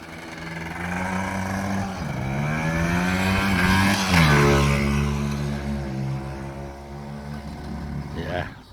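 A 1978 Honda XL250 motorcycle engine running rich and being revved, rising and falling in pitch close by, with talk over it.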